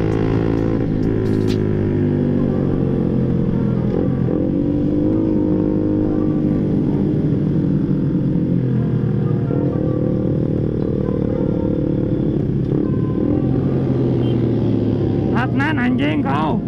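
A Yamaha Aerox scooter ridden fast at night drones steadily, its engine note shifting with speed under wind rush, while a rider talks and shouts over it throughout.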